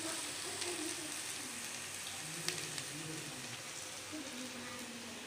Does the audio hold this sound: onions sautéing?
yes